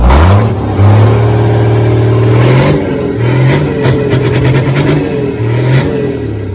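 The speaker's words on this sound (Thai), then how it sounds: "ให้ดูสภาพเครื่องยนต์นะครับ ไม่มีกระไอนะครับ เสียงดังฟังเพาะ" A used 6E195 truck engine, free of smoke, runs loudly and revs up several times in bursts, with a deep, steady throbbing between revs and no voices over it.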